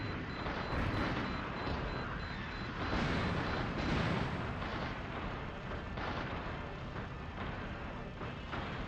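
Heavy weapon fire from a mech in the Steel Battalion video game, aimed at a battleship in a port: a dense, continuous barrage of booming blasts and rumbling bursts, loud and sustained throughout.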